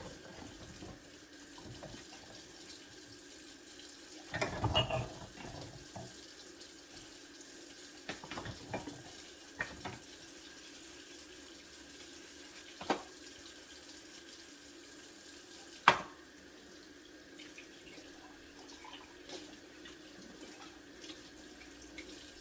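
Tap water runs faintly into a sink while dishes and silverware are washed by hand, a low steady trickle broken by a few soft clinks and knocks of dishes, with no talking.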